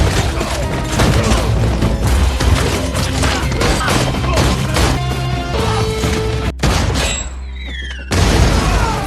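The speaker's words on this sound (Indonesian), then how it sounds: "Setelah baku tembak yang cukup lama, sekarang tinggallah Julian" Sustained gunfire and explosions from a shootout in the action film Nobody, with dense overlapping bangs and crashes throughout, a brief drop-out near the end before the loud barrage resumes.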